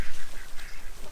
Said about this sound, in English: There's your ducks.